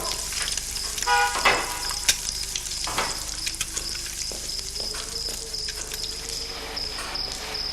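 An egg frying gently in a pan over low heat gives a steady, soft sizzle throughout, broken by a few louder crackles and pops early on, with no voices over it.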